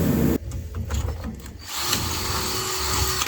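A power drill with a high-speed steel bit reams out a bolt hole during a car build. After a short burst and some clatter, it settles into a steady, loud whir that runs on without speech.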